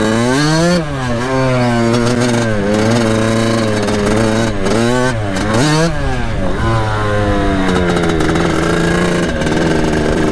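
A Kawasaki KX80 dirt bike with a big bore kit and rejetted carburetor revs hard and close, its two-stroke engine repeatedly climbing and dropping in pitch over a continuous loud drone with no talking.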